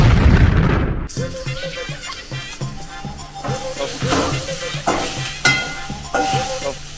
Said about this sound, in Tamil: வெங்காயத்தையும் மிளகாயையும் போட்டு நம்ம வதக்கிட்டு இருக்கோம்